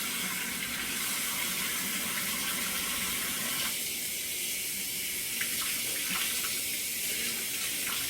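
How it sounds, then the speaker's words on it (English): Water runs steadily from a sink faucet for warm-water hand washing, a constant close hiss and splash that shifts slightly in tone partway through, with no talking. "I'm going to turn on my water to get it warm."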